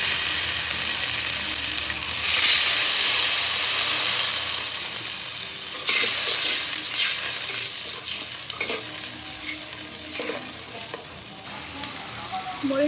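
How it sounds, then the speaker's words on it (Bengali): Spice paste with bottle gourd frying and being stirred in a pan: steady loud sizzle with scraping stirs throughout, no talk. "মশলাটা ভালো করে কষিয়ে নিলাম"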